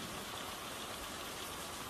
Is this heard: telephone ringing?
no